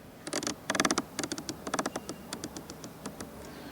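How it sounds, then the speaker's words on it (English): Clicking of the classic rotary control knob in a 2020 BMW X1 facelift interior: a quick run of crisp, close ticks, denser at first, then spaced and slowing as it turns, with no talk. "Then you have still this classic knob. It sounds quite nice also from the feedback."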